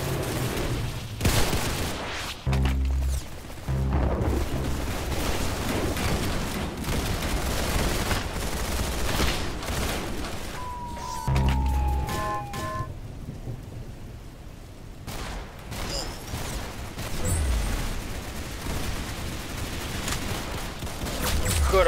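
Gunfire in the shooting game Arsenal comes as repeated sharp shots and rapid bursts over a dense, roaring game soundscape, loud and near throughout.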